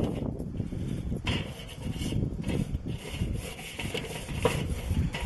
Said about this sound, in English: We're gonna clean off the grates now.